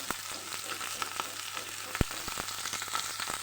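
Meat sautés quietly in a pan, a soft continuous sizzle broken by scattered crackles and a few sharp pops and stirring knocks.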